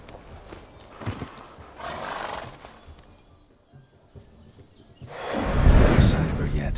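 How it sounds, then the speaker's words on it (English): A horse snorts and whinnies loudly near the end, after quieter rustling and muffled shuffling, in the video game The Witcher 3: The Wild Hunt. "Spooking my horse."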